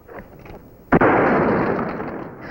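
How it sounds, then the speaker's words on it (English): A single sharp revolver shot during a Western-style fancy shooting display, cracking loudly and up close, then followed by a long, dense roar of noise that holds steady before slowly fading. "let's show the sheriff here some fancy shooting."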